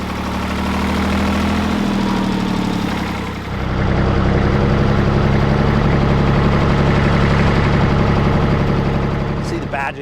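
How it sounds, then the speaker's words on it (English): A 1957 Porsche P133 three-cylinder diesel tractor idles nearby with a loud, steady low chug, and its note shifts a few seconds in while a person talks over it. "This is a 3-cylinder diesel tractor with a 5-speed transmission."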